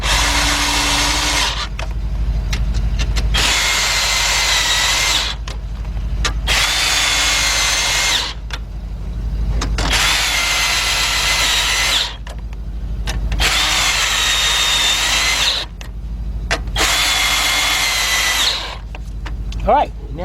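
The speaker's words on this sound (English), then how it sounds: "we got an 8mm 3/8 drive socket with our cordless gun" A cordless impact gun with an 8mm 3/8-drive socket tightens radiator bolts on a Lincoln LS, whirring in repeated loud bursts of a second or two separated by short pauses, close up with occasional faint clicks.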